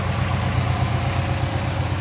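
A rebuilt Oldsmobile 330 V8 with an Edelbrock Performer intake and Holley carburetor idles in a 1964 Jetstar 88 Holiday Coupe, a steady, even low rumble throughout.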